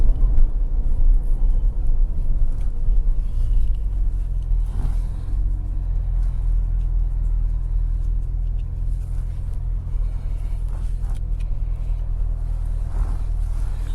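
A Chevrolet Corvette cruising on the road, with a steady low engine drone and rumbling tyre and road noise filling the cabin throughout, close and even in level with no talking.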